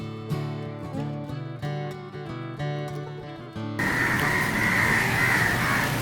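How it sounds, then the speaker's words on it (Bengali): Crows caw repeatedly outdoors under a darkening sky just before rain, harsh calls at moderate distance over a steady background that turns to a broad rushing noise. "আপনারা শুনতে পাচ্ছেন যে মানে কাকেরা কিভাবে ডাকতেছে।"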